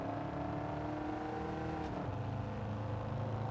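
A race car engine held at half throttle in Gran Turismo 7, a steady, fairly quiet droning whir with a slight pitch dip midway, continuous and without any talk.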